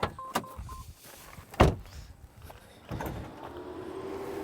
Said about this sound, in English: This is taking up a lot of energy to open the trunk.